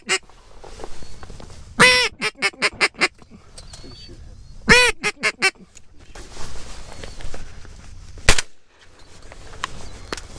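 Teal duck call blown to imitate teal on the water, giving short bursts of quick chirps in two main groups with a few scattered extra notes, fairly loud and close.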